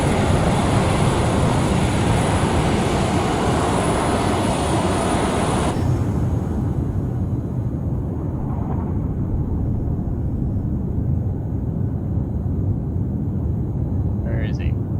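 A fixed-wing aircraft flies in the ArmA 3 video game, its engine a loud, steady roar that fills the whole stretch and shifts to a duller tone partway through.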